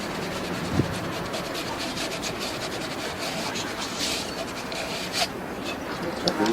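PVC pipe ends being sanded by hand on a building-course site, a steady continuous abrasive rubbing that fills the clip at moderate level with a few brief louder scrapes.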